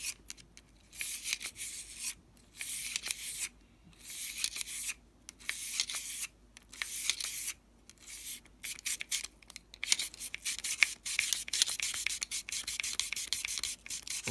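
Brush scrubbing inside a Beretta 92FS pistol barrel, a quiet, steady back-and-forth rubbing and scratching that runs in rapid, continuous strokes with brief pauses, close to the mic.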